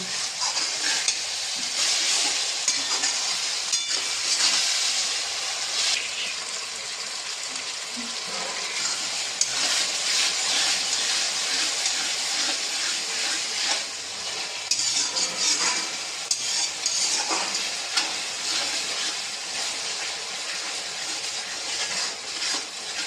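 Chicken masala with onions sautéing for chicken kosha in a pan, a steady close sizzle and crackle with occasional stirring scrapes, continuous and fairly loud throughout with no talking.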